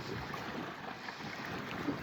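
Steady wind rushes across a beach or lakeshore, a continuous broadband roar with microphone buffeting, no voices during this short stretch.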